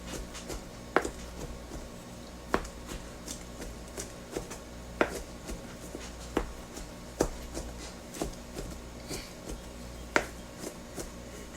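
A knife chops food for a scrambled omelette on a board in sharp, irregular taps, roughly one every second, fairly close and quiet, with a low steady hum beneath and no speech.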